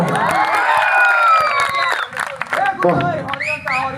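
Audience at an Odia comedy stage show bursts into loud whistling, cheering and shouting, then the excitement breaks into scattered yells and voices.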